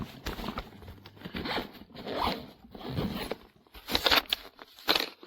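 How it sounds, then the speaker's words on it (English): A zipper on a 28-litre Tuguan insulated cooler backpack, sized for 38 cans, is pulled in several quick close strokes, each a short rasping burst with brief gaps between. "So when all of this is zipped up"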